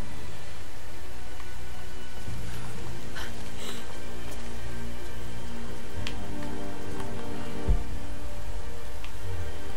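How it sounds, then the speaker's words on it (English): Steady rain falls in Rise of the Tomb Raider, a dense, constant hiss of drops that fills the scene from start to end, with a few faint thuds and clicks mixed in. "and we're raining as well"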